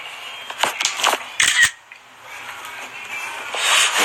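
A camera shutter clicks for a selfie, a few quick sharp snaps in a cluster, close and crisp, followed by quieter background noise with no speech.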